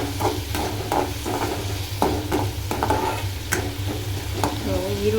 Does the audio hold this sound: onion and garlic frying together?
yes